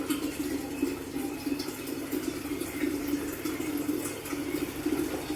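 Water runs and fills an RO water purifier in a home kitchen, a steady rushing hiss that continues evenly throughout.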